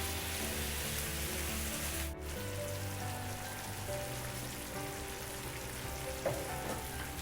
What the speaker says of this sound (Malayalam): ഇനി നമുക്ക് ഈ ശർക്കര ലായനിയിൽ വെച്ച് നല്ലതുപോലെ വഴറ്റിയെടുക്കാം.